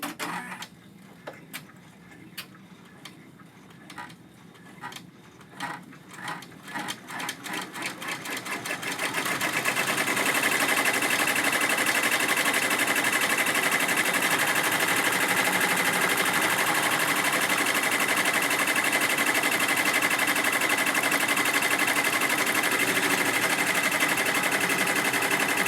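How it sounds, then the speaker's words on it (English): An embroidery machine stitching the final outline of a snap-tab key fob: rapid, even needle clatter starts in short bursts, then settles into a loud, steady mechanical buzz that runs on alone. "Now it's back in the embroidery machine, and we're just going to go ahead and stitch that very last stitch."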